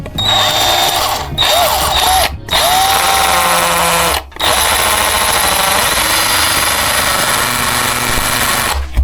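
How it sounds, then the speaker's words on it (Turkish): A power drill with a 5 mm diamond bit whines loudly and steadily as it bores into stone, close up, with a few brief pauses. "5 mm elmas uçla istediğim noktadan bir delik açacağım arkadaşlar"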